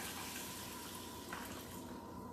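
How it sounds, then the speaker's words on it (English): Three cups of water pour steadily into a saucepan for elderberry syrup, a continuous close splashing rush with no voices. "Okay, so I've got my 3 cups of water. I'm just going to pour it right over."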